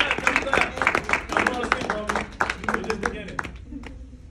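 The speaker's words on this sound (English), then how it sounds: "Clap, clap, clap, clap, clap, clap, clap, clap." At a university financial literacy conference, an audience claps in a lively burst of individual hand claps that thins out and fades toward the end.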